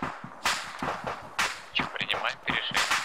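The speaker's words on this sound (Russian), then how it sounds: "Стреляют." Several sharp gunshots ring out in ARMA 3 as irregular cracks over about three seconds, loud and close, among other game noise with no clear talk.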